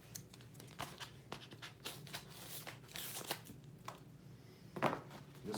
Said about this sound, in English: take a knife and some scissors and just cut off some excess parts here